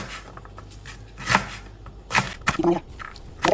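A knife slices long beans thinly on a cutting board for Thai fish cakes, quiet scattered cuts building into a few louder clustered chops, close up against a low hum.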